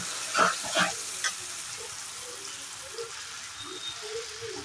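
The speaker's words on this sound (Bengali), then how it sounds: "এবার আমি ভালোভাবে এগুলোকে নেড়ে চেড়ে ভেজে নেব" Garlic paste and fish paste fry in a pan while being stirred, with a few scraping strokes at the start and then a quiet, low sizzle.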